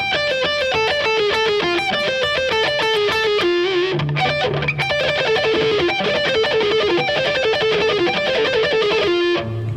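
Rapid distorted electric guitar licks, jumping between strings, with a brief pause and low note midway, then the quick pattern resumes.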